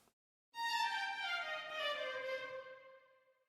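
A bowed string instrument sustains a bright, singing note with a slight change partway through, ringing for about three seconds before tapering off.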